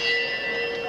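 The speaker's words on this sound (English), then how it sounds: "The bell just a couple of seconds ago, and Axel Schulz came warily out of his corner" Ringing bell at a boxing ring opening a round in an IBF heavyweight championship bout, a sustained metallic tone with steady overtones, loud and close, continuing through the whole moment with no talk over it.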